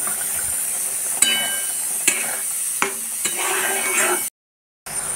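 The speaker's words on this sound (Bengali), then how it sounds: "মশলাটা এবার আমি একটু কষিয়ে নেব।" Spice paste with ginger and garlic paste fries steadily in hot oil with a continuous close sizzle, while a utensil scrapes and clinks against the pan at a few irregular moments; a brief silent gap falls near the end.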